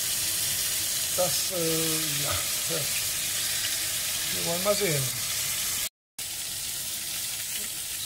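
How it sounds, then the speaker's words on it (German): Steady sizzling of a bacon-covered roast searing in hot melted fat in a pan, a constant hiss under a brief spoken phrase and some faint background tones. "in das heiße, zerlassene Fett zum Anbraten"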